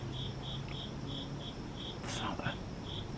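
Cicadas buzzing outdoors: a steady run of short, evenly spaced high chirping pulses over a low background hum, with a brief rustling noise partway through.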